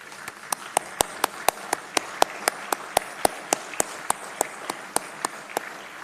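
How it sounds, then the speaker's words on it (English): An audience at a university convocation claps for the graduates: crisp, evenly spaced claps, several each second, over a soft bed of broader applause and room murmur. "please stand and give a round of applause to our graduates"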